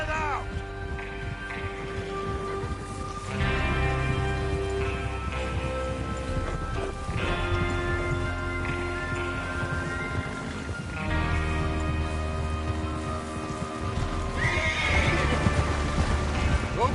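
Horses neighing and hooves clip-clopping in Red Dead Redemption II, layered with game music and ambient sound, with a whinny near the end and continuous movement throughout.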